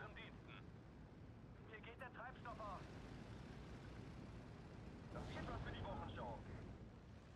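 Deep rumbling explosions from bombing strikes in the wartime strategy game Steel Division 2, heavy continuous booms with short chirping unit radio chatter layered over them, swelling again near the end.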